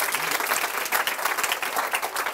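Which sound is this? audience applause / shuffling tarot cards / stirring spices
audience applause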